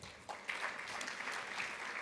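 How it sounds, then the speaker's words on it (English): Conference audience claps in a brief burst of fairly faint, dense applause that continues evenly for about two seconds with no voices on top. "Give him another round of applause."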